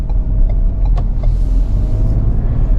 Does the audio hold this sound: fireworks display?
no